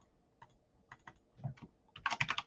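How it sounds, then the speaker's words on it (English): Keystrokes on a computer keyboard, a few scattered taps building into a quick, close flurry of typing near the end, in a quiet room with no speech. "So I go over here and I can type, should be able to type."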